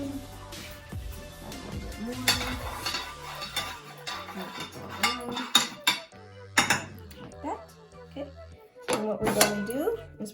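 A spoon clatters and scrapes in pots and pans while enchiladas are being cooked, irregular metallic clinks and knocks at close range, with speech in between.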